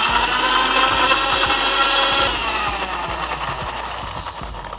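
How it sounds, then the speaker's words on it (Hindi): A loud, steady mechanical whir of a kitchen mixer grinder blending ash gourd with a little water, running continuously and dropping slightly in pitch partway through, with no talking. "कुछ ही सेकंड्स में हमारे लिए ये पेठा आराम से मिक्सी में पिस जाएगा।"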